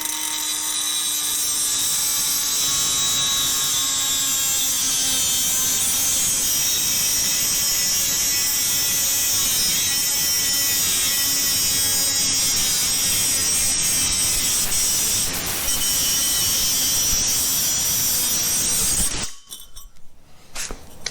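A Dewalt 20V XR 3 inch cut-off tool, model DCS438B, holds a steady high-pitched whine as its wheel cuts for nearly twenty seconds, then spins down abruptly near the end.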